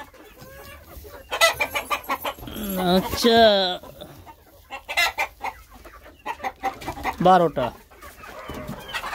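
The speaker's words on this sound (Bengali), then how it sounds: "এগুলো হলো দেশি মুরগি আছে।" Desi chickens clucking on a small egg-laying farm, repeated close, loud clucks and squawks in bursts, with someone speaking briefly in between.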